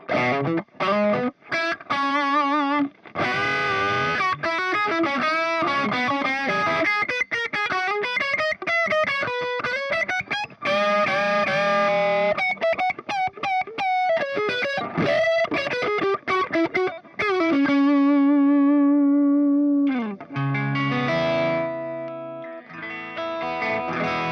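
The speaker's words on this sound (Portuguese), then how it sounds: "Overdrive bem reminiscente do Tube Screamer, trazendo aquele médio gordão" Electric guitar driven through a Tube Screamer–style overdrive with a thick midrange and trimmed lows, busy picked lines and bends ringing out loud and alone, ending on held chords.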